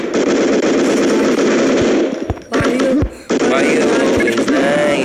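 Rapid automatic gunfire in a shooter video game, loud continuous bursts with a couple of brief gaps and a few sharper single shots in between.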